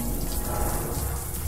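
Steady rain in a video game, a dense even hiss of falling drops that runs without a break from start to finish, with no talk over it.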